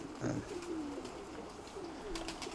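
Pigeons coo in soft, low rolling calls, a couple of drawn-out phrases close by over a steady background hiss.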